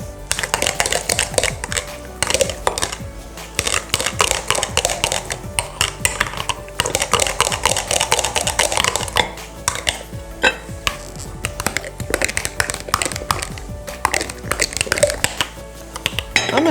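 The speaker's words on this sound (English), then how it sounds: "We're gonna go ahead and stir this up." Chipotle chicken is stirred in a stainless steel pan, with rapid clattering metal-on-metal scraping and tapping in busy bursts, loud and close, broken by brief pauses.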